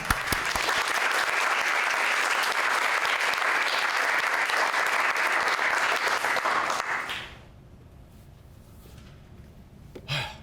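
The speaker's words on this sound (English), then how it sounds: "please welcome him with a warm round of applause" A warm round of audience applause welcoming a speaker at a dinner event, full and sustained crowd clapping for about seven seconds before it abruptly fades to quiet room tone, with a brief noise near the end.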